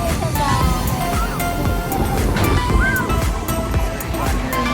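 Ocean surf at Santa Monica Pier, broad washing waves with wind buffeting the microphone, loud and continuous, with people talking nearby over the wash.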